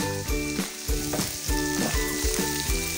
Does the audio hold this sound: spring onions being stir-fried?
yes